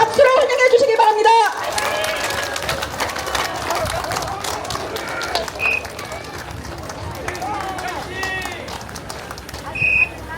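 A crowd at a political rally in Jeju applauds and cheers. Amplified speech comes briefly first, then a sustained wash of clapping and crowd noise follows, with a few sharp whistle-like tones.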